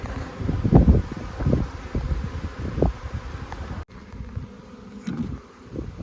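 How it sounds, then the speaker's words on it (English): Honey bees buzz around a hive being fixed for a drone-laying queen or laying-worker problem, a fluctuating swarm hum with louder passing bursts as individual bees fly near, plus light rustling. "while we were putting the box on the other hive, some of the bees found their way back in"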